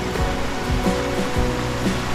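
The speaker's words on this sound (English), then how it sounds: "This is another waterfall." Rushing waterfall on a pagoda hiking trail in Ha Tinh, Vietnam, a steady loud broadband roar of falling water heard close, with no voices.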